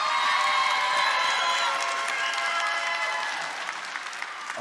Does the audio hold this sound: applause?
yes